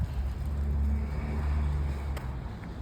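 A van with a cell-site simulator antenna accelerates hard on the road, giving a loud, steady low engine roar that holds throughout with no talk over it.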